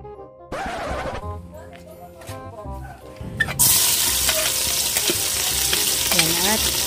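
Onion, celery and carabao meat go into a hot pan for sautéing, starting with a few clattering knocks and then a loud sizzle that bursts in and keeps going, while a person talks over it.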